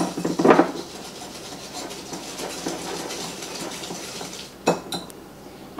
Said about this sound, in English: In a separate bowl, whisk together 1/4 cup of melted butter with 1/2 cup of light brown sugar